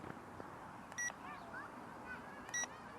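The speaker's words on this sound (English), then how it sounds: "It beeped, so it should be ready to go." A JJRC mini drone gives two short electronic beeps spaced about a second and a half apart, faint against a quiet room background.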